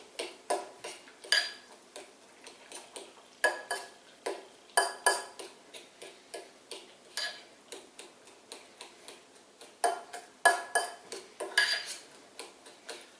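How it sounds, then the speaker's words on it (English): Chopped red onion being stirred into clam dip in a bowl, a utensil clinking and tapping against the sides in quick irregular bursts, close by and alone without any voice. "Let's get that mixed in here."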